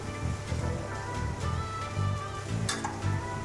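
Spices frying and being stirred in a pan with green chilli and sugar, a steady close sizzle with scraping stir strokes and clinks throughout.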